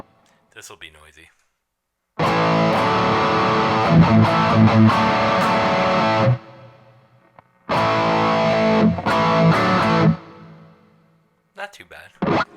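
Electric guitar played through a Boss distortion pedal with a noise suppressor, two loud saturated bursts of chords separated by a sudden cut to near silence as the gate clamps down, with brief quieter picking at the start and end.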